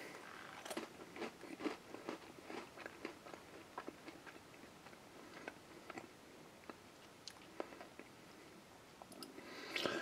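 A regular MRE cracker topped with runny, chunky peanut butter being bitten and chewed up close, faint irregular crunches and clicks scattered across a quiet background.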